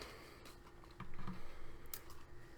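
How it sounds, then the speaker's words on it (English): Tarot cards being shuffled give a soft, quick patter of riffling clicks, faint and close, in uneven bursts through the middle with no voices. "I'm just going to keep shuffling until I get the signal from Spirit to stop"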